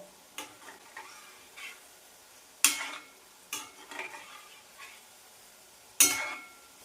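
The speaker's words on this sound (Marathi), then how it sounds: "स्लो आणि मिडियम फ्लेमवरच आपल्याला हे कोफ्ते तळायचे" Chickpea kofta balls frying in oil over a slow to medium flame, with a soft background sizzle broken by several sharp bursts of spattering and scraping as the balls are turned, no voices.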